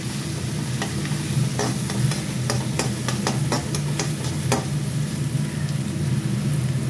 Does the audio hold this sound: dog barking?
no